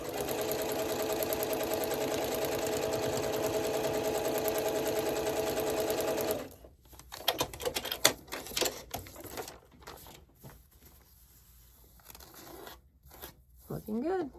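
A sewing machine stitches a foundation paper-pieced quilt block for a Wensleydale quilt. It hums in a continuous buzzing run for about six seconds, then stops, and brief rustles and handling sounds of paper and fabric follow.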